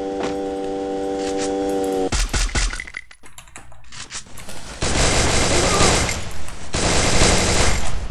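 Rapid automatic gunfire bursts in the battle-royale video game Free Fire, loud dense volleys in the second half after a steady tone and scattered shots, with no talk over them.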